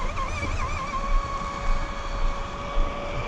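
An RC car's electric motor runs at partial throttle with a steady, high, harmonic whine that wavers slightly in pitch over a low rumble.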